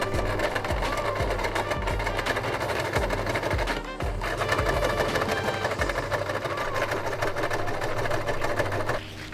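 A sewing machine stitches clips around the bottom edge of a budget tent, its loud rhythmic mechanical hum and thump running almost continuously, close by, with a brief dip midway.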